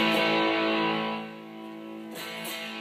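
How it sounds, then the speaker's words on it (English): Distorted electric guitar played through a Morley Little Alligator volume pedal, sustained chords ringing alone, dropping to a quieter but still gritty level partway through before a fresh strum. "you hear there's still a distortion characteristic that's still there"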